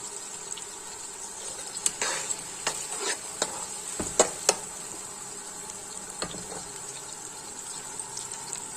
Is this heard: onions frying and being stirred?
yes